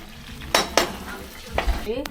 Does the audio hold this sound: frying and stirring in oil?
yes